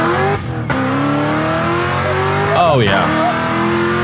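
A 2003 Ford Mustang Cobra engine revs hard and close, its pitch climbing and then dropping sharply twice, with a brief tire-squeal edge, as a person talks over it.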